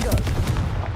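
A Confringo spell blast from the video game Hogwarts Legacy, a loud, short fiery burst with crackling rumble, heard close and alone.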